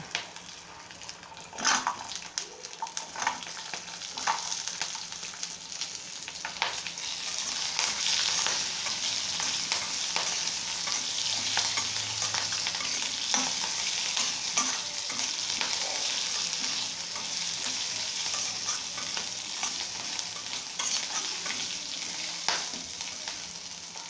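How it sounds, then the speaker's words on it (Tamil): Small shallots, garlic cloves and a piece of ginger fry in oil for a spicy mutton gravy, a steady, moderately loud sizzle lasting throughout, with a few scattered clinks and scrapes near the start. "இப்போ ஒரு சின்ன வெங்காயம் ஒரு 20, பூண்டு ஒரு 6-7 பல், இஞ்சி ஒரு சின்ன பீஸ் உடைச்சி வச்சுருக்கேன், அது சேர்த்துக்கலாம்."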